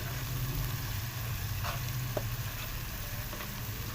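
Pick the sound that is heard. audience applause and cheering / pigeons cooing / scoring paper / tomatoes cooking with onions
tomatoes cooking with onions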